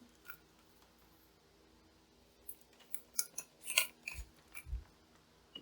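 Crinkly plastic packaging around dried basil herb being handled and torn open, a quiet start giving way to a cluster of sharp crackles and snips over the last few seconds, close by and fairly soft.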